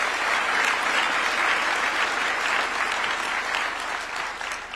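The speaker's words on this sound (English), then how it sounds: "A round of applause for the main speaker of this meeting." Sustained applause from an audience at a presidential award ceremony at State House in Nairobi, a steady, dense clapping that holds loud for the whole stretch and eases slightly toward the end.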